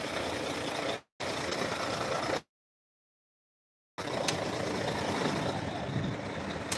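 A delivery truck's engine rumbles steadily and loudly at close range near a hotel in Jeddah, breaking off briefly twice and going completely silent for over a second before the drone resumes.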